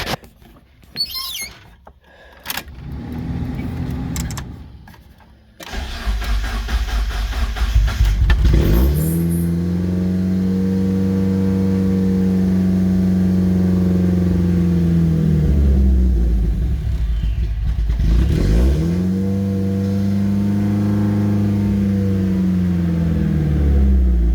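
A 1994 Mazda Miata with variable valve timing, an aftermarket standalone engine computer and upgraded injectors cranks and fires up, then revs loudly and steadily with a couple of throttle swells, running close by without talk.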